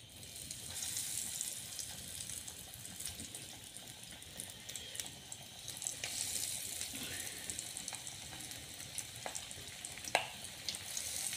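Kebabs frying in hot oil, a faint, continuous sizzle and crackle with occasional small pops and clinks.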